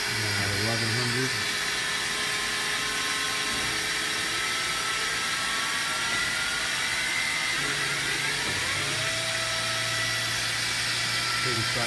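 The 10,000 RPM spindle of a Mazak VTC 200B vertical machining center spins with a loud, steady high whine and broadband hiss, its pitch sweeping partway through, while people talk over it.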